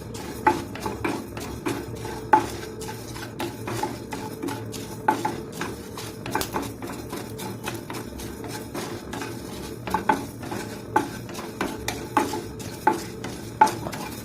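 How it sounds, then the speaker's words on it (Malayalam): Coriander seeds stirred as they roast in a pan for homemade sambar powder, a steady run of close, light scraping clinks from a spoon against the metal pan, with no voices. "മല്ലിയാണ്, അപ്പോൾ അധികം ഒരുപാടങ്ങ് മൂത്ത് വരണ്ട."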